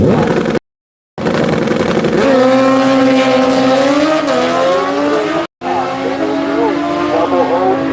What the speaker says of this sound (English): That's a fast ass GSXR bike.